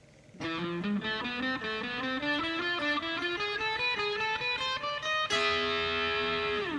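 Electric guitar playing a rising run of single notes with a light, slightly gritty overdrive, ending on a sustained chord that rings out.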